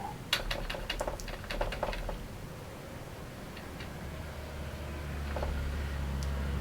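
Fingers type on a computer keyboard with sticky keys, a quick burst of uneven clicking taps up close, then a few scattered keystrokes over a low background hum.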